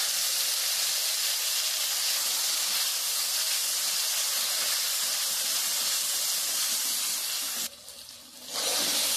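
Ground tomato paste added to fried onions in a hot pan for a Bihari-style chicken curry, giving a loud, continuous steamy sizzle that cuts out briefly near the end before resuming.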